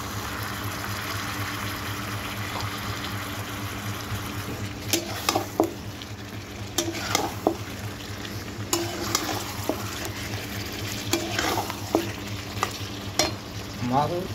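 Chicken meat is stir-fried in a pan, a continuous sizzle under repeated scraping and clanking strokes of a spatula that grow more frequent, close and moderately loud, with a low hum in the background.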